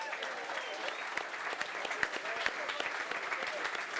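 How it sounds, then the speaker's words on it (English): A crowd at a live event in Cork gives sustained applause, a dense, steady patter of many hands clapping at even loudness from start to finish. "Give yourselves a round of applause"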